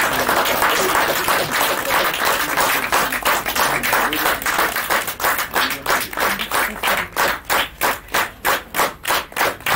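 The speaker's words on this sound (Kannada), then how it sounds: "ನಿಮ್ಮೆಲ್ಲರ ಪ್ರೀತಿಯ ಅಪ್ಪುಗೆಯ ಚಪ್ಪಾಳೆ ಖಂಡಿತವಾಗ್ಲೂ ಬೇಕಾಗುತ್ತೆ" An audience at a website launch press meet breaks into applause, dense clapping that thins toward the end into a few distinct, evenly spaced claps.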